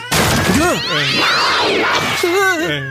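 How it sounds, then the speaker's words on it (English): Angry cats let out loud, close yowls and drawn-out caterwauling meows with sharp rising and falling pitch, several cries overlapping, while a person talks over them. "I have some really angry cats"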